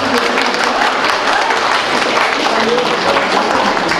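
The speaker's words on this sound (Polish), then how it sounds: "Proszę Państwa, brawa." An audience claps in steady, dense applause at a town-day celebration honoring a long-serving staff member's jubilee, loud and continuous throughout with no talk over it.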